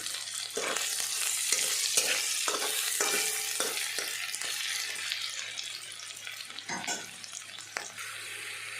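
Garlic and minced ginger fry in a pan of oil for chicken pasta, producing a steady close hiss and crackle, broken by repeated stirring scrapes and soft clinks throughout.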